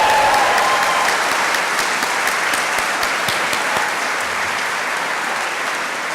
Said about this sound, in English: So, a big cheer for Tom.